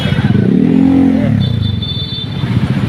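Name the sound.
motorcycle engine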